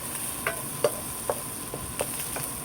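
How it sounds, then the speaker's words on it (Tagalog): Eggplant frying in a pan, stirred with several sharp, evenly spaced scrapes and taps over a soft continuous sizzle, close and clear with no talking. "haluin lang muna natin hanggang mag-brown"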